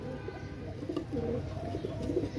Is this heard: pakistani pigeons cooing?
yes